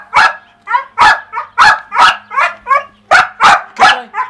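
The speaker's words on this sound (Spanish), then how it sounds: "¿Por qué ladra?" A dog barks repeatedly at close range, about ten sharp, loud barks in an uneven rhythm with brief gaps, alone without talk.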